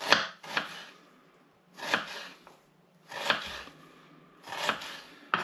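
A knife chops an onion into small diced pieces on a board. Four separate bursts of quick, crisp chopping strokes come close and clear, with short quiet gaps between them.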